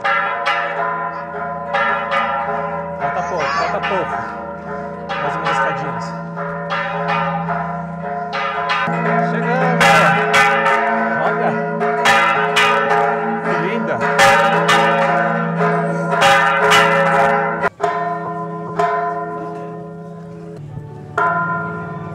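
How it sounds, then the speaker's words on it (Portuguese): Church bells at a sanctuary in Mexico ring out loudly and repeatedly, overlapping strikes with long shimmering tones that hang in the air, outdoors with a faint hum beneath. "Chegando no santuário, é olha, sino."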